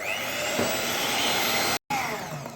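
An electric beater whirs steadily as it creams butter and sugar for a butter cake, a close, continuous motor whine with one brief dropout near the end.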